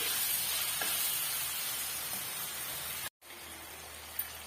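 Onions sautéing in a pan with asafoetida, a steady soft sizzle and hiss, quiet and continuous, briefly cutting out before resuming.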